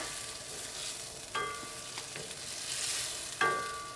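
Tomato and egg stir-frying in a pan give a steady close sizzle, with a few sharper clinks of a utensil stirring against the pan.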